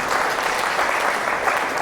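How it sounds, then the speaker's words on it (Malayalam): A congregation at a Christian retreat claps together in thanks, a dense, even burst of applause filling the room without pause. "ഒന്ന് കൈയടിച്ച് കർത്താവിന് നന്ദി പറയാം."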